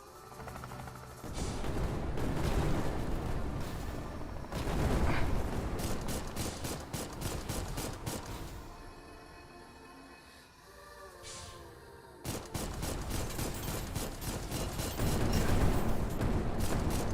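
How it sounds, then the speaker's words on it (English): Bombing-run explosions and gunfire in the Dolls Nest video game, with heavy booming blasts and rapid bursts of shots in repeated volleys, one brief lull midway, then a dense barrage resuming loudly. "It's gonna do another bombing run."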